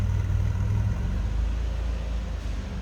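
A 1986 Buick Century Limited with a stock 3.8 liter sequential fuel-injected V6 idling, a low, smooth, steady rumble heard up close with no voices.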